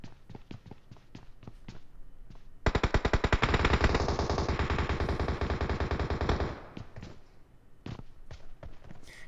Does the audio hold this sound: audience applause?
no